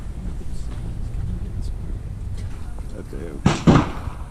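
Shots fired during a concealed carry license shooting qualification, with two sharp reports close together near the end over steady wind noise and low background rumble.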